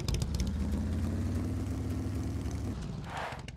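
A motorcycle engine in the game SCUM idles with a close, steady, low rumble for about three seconds, then cuts out into a brief softer noise.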